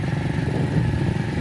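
A motorcycle engine runs steadily close by on a village trip, a loud, continuous rough putter with no talk over it.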